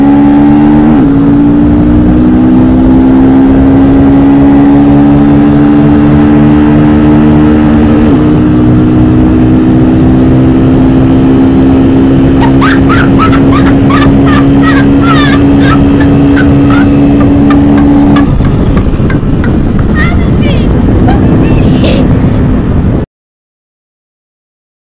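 A Honda XR/Bros motorcycle engine screams at high RPM close by, a sustained loud whine that climbs in pitch, dips, then holds before rapid popping bursts near the end, with no talking.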